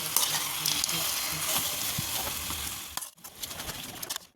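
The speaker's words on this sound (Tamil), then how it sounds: "இதையும் நல்லா வதங்குற வரைக்கும் ஆயிலில் வதக்கி விடுங்க." Tomatoes sautéing in oil for a homemade tomato chutney make a steady, close, hissing sizzle broken by occasional stirring scrapes. It runs without pause, with a brief dip near the end and faint bird calls in the background.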